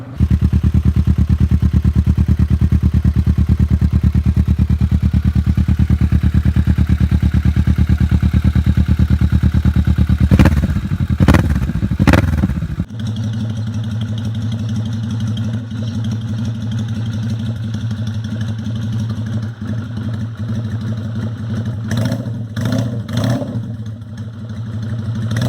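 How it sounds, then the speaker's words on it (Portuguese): A Kawasaki Vulcan 650 two-cylinder motorcycle engine idles with a steady low throb, briefly revs with a few sharp bursts, then settles into a lower, loping idle. "o barulho do motor, infelizmente, é igual de qualquer outra motocicleta comum"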